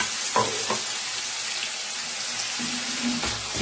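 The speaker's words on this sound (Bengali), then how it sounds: "এই যে রসুন পেঁয়াজ যা আছে এগুলো একটু কষিয়ে নেবো" Garlic and onion sauté in a pan with a steady, close frying sizzle throughout, broken by a few light scraping stir sounds.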